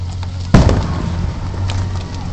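A single firework bursts with a sharp, loud boom at the 2016 Magic Springs fireworks show in Hot Springs, Arkansas, followed by a fading crackle and rumble outdoors.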